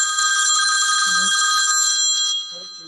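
A telephone rings loudly and steadily for about two seconds during a board of directors meeting, with a brief voice cutting in underneath before the ringing fades.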